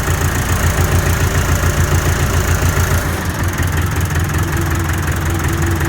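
A vehicle engine that has sat unused for four months idles roughly on a cold day, a loud, close, steady low rumble with an uneven beat and no talk.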